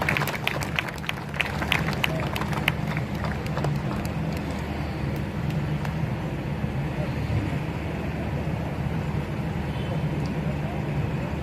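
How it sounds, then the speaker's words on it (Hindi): Loud, sustained applause from a gathered audience welcoming a speaker at a Samajwadi Party blood donation event in South Mumbai, with sharp individual claps up front settling into a dense, continuous roar mixed with crowd murmur. "तो जोरदार तालियों से स्वागत किया जाए कासिमान सर का"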